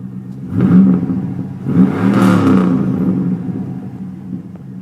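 A car's engine with dual exhaust revs twice in deep rumbling surges, close and loud, settling back toward a throaty idle between bursts.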